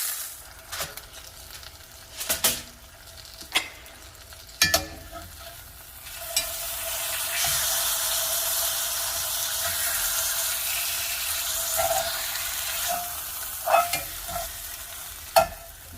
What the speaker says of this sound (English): I'm just going to cover, lower the heat, and let it continue to cook until the center is done.